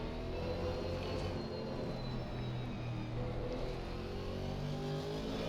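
Aston Martin GT race car in Assetto Corsa Competizione on a wet Imola circuit, its engine droning steadily and continuously throughout at moderate, even loudness with no voices.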